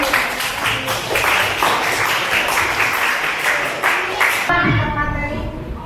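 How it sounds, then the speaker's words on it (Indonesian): Applause from a group at an academic coaching and supervision session in a school setting: dense, steady clapping for about four and a half seconds that stops abruptly, followed by a brief voice. "Tepuk tangan buat Mbak Juan."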